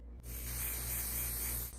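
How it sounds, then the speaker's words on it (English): Fixative spray sprayed onto a freshly picked plant, a steady hissing aerosol burst lasting under two seconds over a low hum. "I sprayed this on it, see? Fixative spray."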